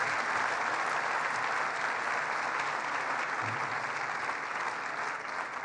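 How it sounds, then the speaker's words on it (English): A crowd at a governor's announcement of a cancer clinical trial claps together, a loud, sustained, even burst of applause from many people that eases off slightly at the end. "Give yourselves a round of applause."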